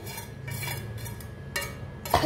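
A spoon stirs bottle gourd chutney with ground lentils in a bowl, giving soft scraping clinks in short bursts, ending with a sharper knock.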